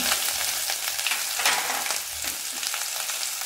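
Ginger, curry leaves and grated coconut sizzle steadily in hot oil for a ven pongal tempering, a dense, close, continuous crackle with faint stirring scrapes and no talking.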